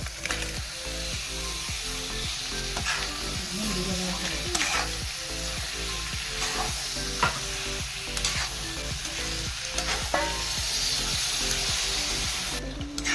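Cooked crab is stirred into masala frying in a pan for a crab roast, with a loud, steady sizzle and a regular rhythm of scraping spoon strokes close up.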